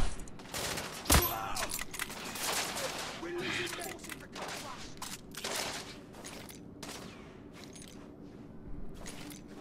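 Gunfire in The Order: 1886 on PS4, bursts of rapid shots and a loud crack early on, followed by scattered reports and clattering impacts, with a player talking over parts of it.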